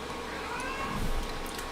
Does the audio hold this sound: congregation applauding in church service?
no